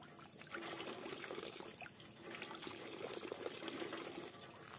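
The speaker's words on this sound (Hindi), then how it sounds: "यहाँ एक नलकूप है, अगर हम लोग वहाँ पे पानी निकलता है तो पानी पियेंगे" Water runs from a tube well on a hill in Jharkhand, a soft, continuous trickle and splash that stays faint and steady throughout, with no talk over it.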